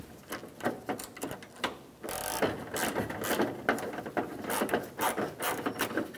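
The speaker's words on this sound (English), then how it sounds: "You're gonna need a long screwdriver, use a Phillips head. Slide down in there and loosen up those screws." A long Phillips screwdriver loosens the grille screws on a 1997–2001 Honda CR-V, giving close, quiet ratcheting clicks and scraping turns in irregular bursts, with no voices.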